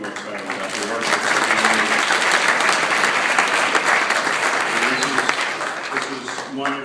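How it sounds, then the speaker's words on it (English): Sustained audience applause from a crowd at a civic event, loud and dense throughout, building quickly and holding steady before tapering slightly at the end. "you should give yourselves a big, big round of applause"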